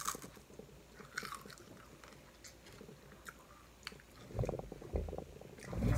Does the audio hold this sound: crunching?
yes